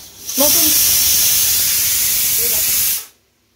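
A new pressure cooker with meat and water steadily vents steam in a loud, close, continuous hiss for about two and a half seconds, then cuts off abruptly into silence.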